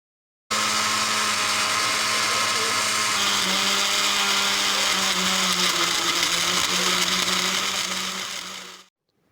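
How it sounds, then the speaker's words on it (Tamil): An electric blender grinds a muskmelon smoothie with sugar in one continuous, steady whir that starts abruptly, holds its loud buzzing tone with a slight pitch shift partway through, then spins down to silence. "இது போட்டு நல்லா ஃபைனாக அரைச்சி எடுத்துகிட்டு வந்துடலாம்."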